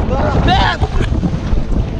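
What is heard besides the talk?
wind blowing over a catamaran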